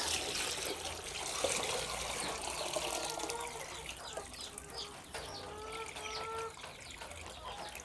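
Four liters of water gush steadily into a container, with chickens clucking faintly in the background.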